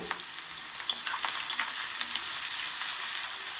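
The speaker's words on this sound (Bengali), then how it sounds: "আর দিয়ে দিচ্ছি কোচানো পেঁয়াজ ভালো করে নেড়েচেড়ে একটু ভেজে নেব" Sliced onions, slit green chilies and nigella seeds sizzle steadily in hot oil while being stirred, a bright crackling hiss with occasional spatula scrapes.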